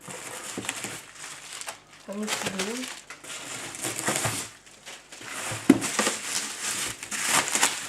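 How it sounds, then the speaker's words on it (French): Bubble wrap crinkling and crackling in bursts as it is handled close by, with a few pauses between rustles. "Désolée pour le bruit, c'est dans du papier-bulle."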